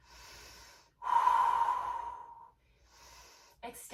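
Slow, audible breaths during a held beginner's morning yoga stretch, a soft inhale followed by a longer, louder exhale, then a quieter breath and a brief final rustle.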